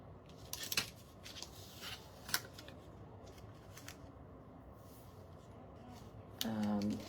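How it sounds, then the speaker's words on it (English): Scissors snip through pattern paper to cut it in half, giving a few crisp, close cuts over a steady room hiss, with a voice starting to talk near the end. "So we're going to cut this paper right in half"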